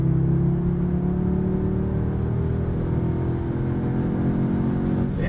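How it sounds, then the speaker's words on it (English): A 2022 Audi S3 in Sport mode, its engine idling and revving with a steady, loud, near hum and a rising pitch, alone without talk. "I've got the key to this 22 Audi S3. Let's fire it up."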